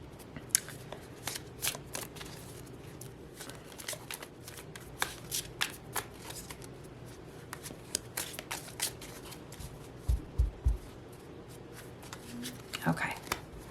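Star Seeker Tarot cards are shuffled and riffled by hand in repeated quick bursts of crisp card flutter, near and fairly quiet, with soft speech in the background.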